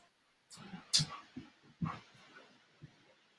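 Dogs whimpering and whining in short, high-pitched yelps and whines, a handful of separate bursts spaced unevenly over a few seconds, close by and fairly quiet, with no talking.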